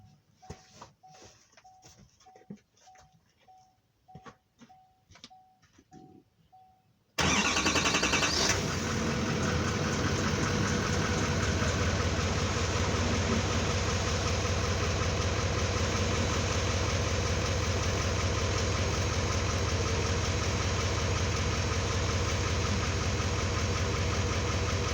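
A 2018 GMC Sierra 3500 with the L5P Duramax diesel, just after a fuel filter change, cranks and fires abruptly, then settles into a loud, steady, gravelly idle that drones on close by, preceded by a few quiet ticking sounds.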